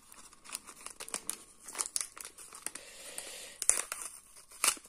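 Zuru Mini Brands surprise package being torn open, with close crinkling and tearing of plastic wrapping in bursts and quieter rustles between, no talking.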